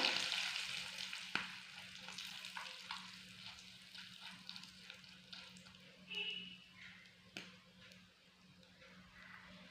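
Curry leaves and sambar powder fry in a pan with a soft, steady sizzle, stirred with a few scraping clinks and brief louder hisses, fairly quiet and close with no talk over it.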